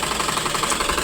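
A tailor's sewing machine runs steadily close by, its needle mechanism giving a fast, even, rhythmic chatter with no pauses and no voices.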